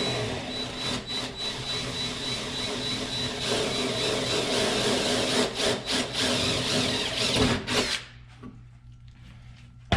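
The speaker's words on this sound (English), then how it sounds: "I'm gonna go ahead and drill this last hole that I needed to." Power drill boring a hole through thin sheet metal on an old Ford truck door, a loud steady grinding whine lasting about eight seconds with slight surges, then cutting off abruptly, leaving faint room noise.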